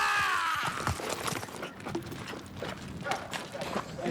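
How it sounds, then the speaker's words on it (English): A horse's hooves clip-clop on the ground as it moves off during a film shoot, quick uneven strikes at moderate distance that come over background voices and set noise. "We got the horse to move a little bit that time."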